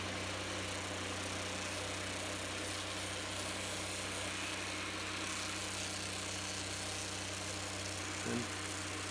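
An engine-driven saw cutting a log to trim a pole barn rafter, a steady mid-pitched engine drone running evenly throughout at moderate volume, with a faint clunk near the end and no talking.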